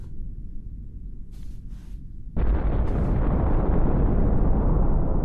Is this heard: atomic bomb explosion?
yes